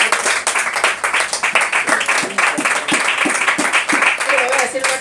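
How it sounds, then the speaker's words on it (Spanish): Church congregation applauding during a sermon, a steady wash of clapping filling the room with a preacher's voice speaking over it. "ahí le fuerte el aplauso al Señor"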